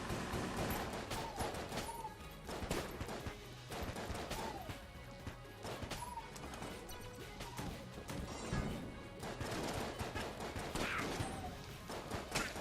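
Gunfire in the video game Enter the Gungeon: a dense, continuous barrage of shots, crashes and impact thuds, loud and cluttered throughout with no clear pauses.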